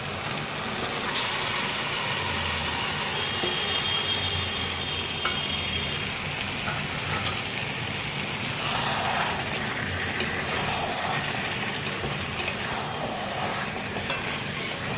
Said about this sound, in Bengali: মশলা কষে দিয়ে তেল বেরিয়ে এসছে সামান্য, এর মধ্যে দিয়ে দেবো আমি চিকেনটাকে